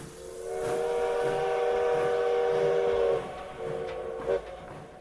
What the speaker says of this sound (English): A train whistle is heard.